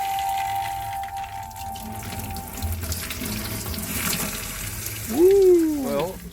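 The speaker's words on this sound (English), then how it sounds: "Just want to wash my fork." A tap runs as a fork is rinsed at a sink inside a camper van, a steady close hiss of flowing water, with a voice briefly vocalizing near the end.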